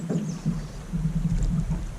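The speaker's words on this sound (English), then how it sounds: "Go ahead and do one row on the right." Low, rhythmic watery churning from drift boat oars pulling through river water in Alaska, steady strokes close by with faint wind in the background.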